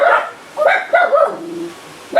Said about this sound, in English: there's the barking dogs.